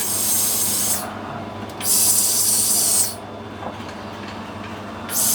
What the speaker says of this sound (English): We'll get the mist spray onto it.